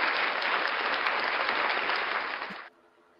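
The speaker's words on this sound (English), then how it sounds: "My applause button is not cooperating with me today." Canned applause fired from a soundboard button, a dense burst of clapping and cheering that runs about two and a half seconds before stopping abruptly.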